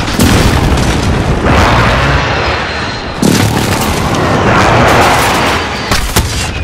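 Airstrike in Call of Duty: Modern Warfare lands as a series of loud, close booming explosions, two big blasts with rolling rumble and smaller bursts trailing after.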